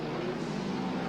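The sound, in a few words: midget race car engines racing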